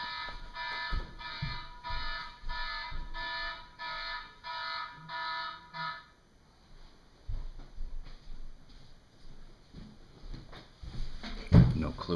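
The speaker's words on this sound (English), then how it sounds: "Oh my God, I have an alarm going off." A loud electronic alarm beeps in a rapid repeating pattern for several seconds, then stops, followed by quieter clattering and handling sounds close by.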